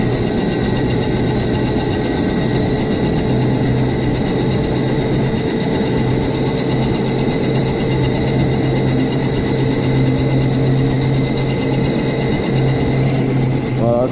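A petrol quad bike refitted with an electric motor runs flat out at top speed, giving a steady, loud drone with a constant low hum and whining harmonics that hold evenly throughout, with no change in pace.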